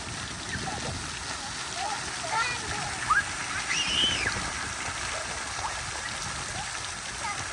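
Water sprays and patters continuously at an outdoor spray park in Prince Albert, Saskatchewan, a soft, steady hiss heard from a short distance, with children's and adults' voices over it.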